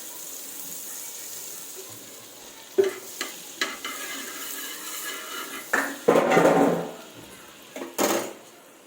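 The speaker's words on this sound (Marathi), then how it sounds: "थोडंसं तेल टाकते थोडासा बटर पण ऍड करते" Oil and butter heating in a pan, with a soft frying hiss under scattered utensil knocks. A louder bubbling sizzle swells near the end, close by, and there is no talk.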